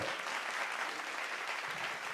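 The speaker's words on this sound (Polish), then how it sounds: "Tak, wielkie brawa." Steady applause from an audience at a talk, a dense wash of clapping at low, even volume for the whole short stretch.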